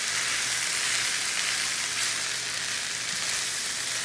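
Spinach wilts in a hot pan for lemon parmesan chicken orzo, giving a steady, close sizzle and crackle of frying that holds evenly throughout with no voices.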